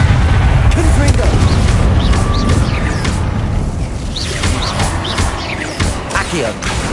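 Confringo spell explosions in the game Hogwarts Legacy burst loudly through a dense, continuous wash of combat noise, with repeated booms over about seven seconds.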